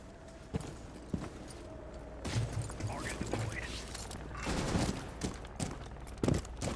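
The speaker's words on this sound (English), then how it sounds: "He's trying to shoot at us through the window." Enemy gunfire rips through a window in a first-person shooter video game, sharp irregular bursts and cracks over a busy background of game noise, with intermittent clattering hits.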